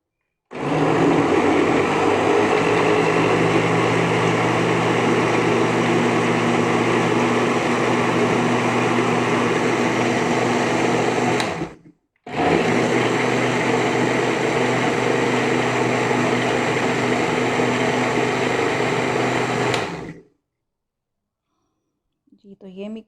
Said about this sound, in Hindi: ये स्ट्रॉबेरी इसमें डाल देंगे। इसको ग्राइंड कर लेंगे।